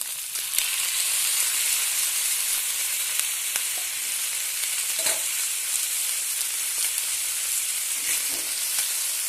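Tomato, onion, ginger-garlic paste and dried red chili paste frying in a pan for a chicken spring roll filling: a steady, close sizzle with a few faint stirring clicks, no voices.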